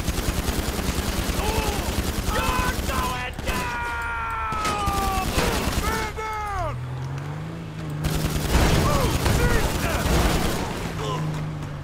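Sustained gunfire during a casino heist in a Rockstar video game, rapid shots and bursts running throughout amid game sounds, with a player talking over it.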